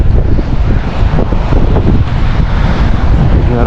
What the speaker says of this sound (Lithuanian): O čia bus vėjas.